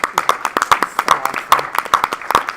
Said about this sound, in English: Let's give a round of applause for our STEM team.